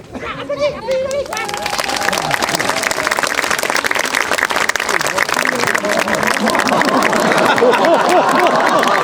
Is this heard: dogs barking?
no